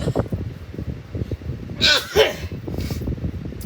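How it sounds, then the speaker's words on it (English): A single sneeze bursts out over steady background chatter and clatter, sharp and close. "I feel another sneeze coming on"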